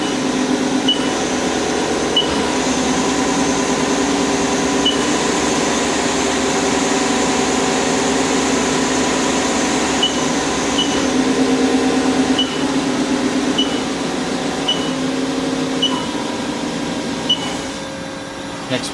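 A 2001 Haas SL-20T CNC turning center runs its lathe spindle, a steady machine hum with a faint high whine and periodic soft ticks, continuous and fairly loud throughout with no talk.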